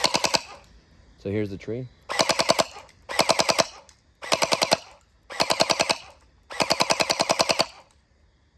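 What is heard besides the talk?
Nerf Nightfall gel blaster firing with hopper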